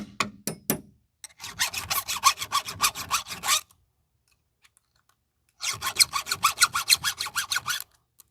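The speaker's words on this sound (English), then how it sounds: "I always go through and sharpen first, and then touch my rakers up." A file rasps across chainsaw chain teeth and rakers in quick, even back-and-forth strokes: a short burst, then two long, loud, rhythmic bouts separated by a quiet pause.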